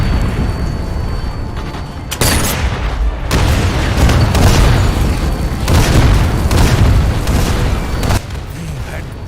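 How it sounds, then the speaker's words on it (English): A captured artillery gun destroying a tank in the Sniper Elite VR game: heavy, loud booming blasts and rumbling explosions that surge in several bursts over a dense, continuous battle din. "The captured artillery destroyed the tank and bought us another chance."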